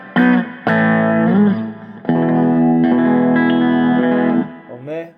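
A clean electric guitar, a Gibson SG Special on the bridge pickup, plays sustained chords and single notes with a touch of reverb, ringing out between strums, loud and close.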